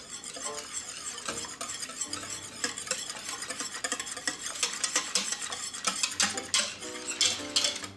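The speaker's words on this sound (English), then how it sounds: "I will give that a whisk." A whisk beats powder into milk in an Instant Pot insert for Greek yogurt, producing rapid rhythmic clinking and scraping against the metal pot, close and moderately quiet, growing busier toward the end.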